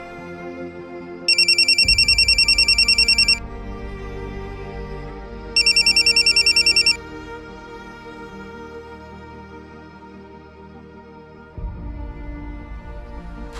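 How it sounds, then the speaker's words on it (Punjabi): A mobile phone rings with an electronic ringtone for an incoming call, two bursts of a couple of seconds each separated by a pause, loud and close over a low background hum and music. "ਤੇਰੀ ਮਾਤਾ ਸ਼੍ਰੀ ਦਾ ਫੋਨ ਆਈ ਜਾਂਦਾ।"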